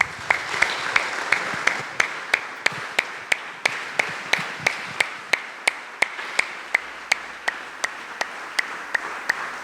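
A church congregation claps in a steady, even rhythm, sharp claps falling roughly twice a second for the whole stretch, with no talk over them.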